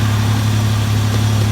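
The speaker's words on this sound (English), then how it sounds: "Okay, that's the engine." A 1994 Mazda B4000 pickup, essentially a Ford Ranger with the 4.0-litre engine and a cone air filter, idles steadily with a loud, even low rumble and no voices.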